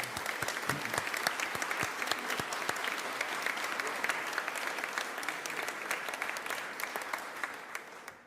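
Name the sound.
applause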